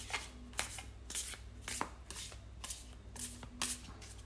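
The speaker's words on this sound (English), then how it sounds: "Let's shuffle with intention." Tarot cards being shuffled by hand, heard as quiet, close bursts of riffling and slapping that repeat in an uneven rhythm, with no voices over them.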